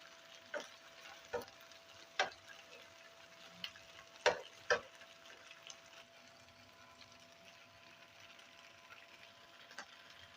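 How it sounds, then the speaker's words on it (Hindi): Chicken drumsticks in a pan over a medium flame, cooked without oil and turned side by side, give a faint, quiet sizzle punctuated by a few scattered taps and clicks. "इसको मीडियम फ्लेम पे हम 1 बाय 1 साइड चेंज करके पकाएंगे"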